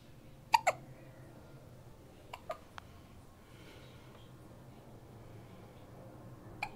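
A baby hiccups in small clusters: two quick hiccups at the start, three more a couple of seconds later, and one faint one at the end, all close against a quiet room.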